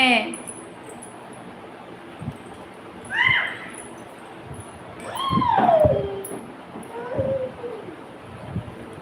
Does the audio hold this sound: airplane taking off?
no